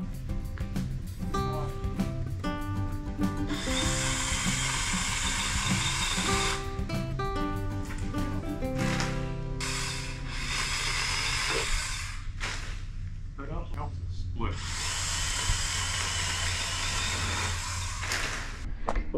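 A small pole saw cuts through wood with a loud, steady, hissing chain rasp that rises and falls in long strokes, then pauses briefly before resuming.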